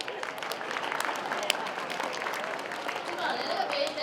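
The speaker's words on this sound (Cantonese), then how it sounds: "我哋再俾多次掌聲佢啊" Audience at a Christmas party giving a performer another round of applause, a steady dense wash of clapping with crowd noise and some voices mixed in throughout.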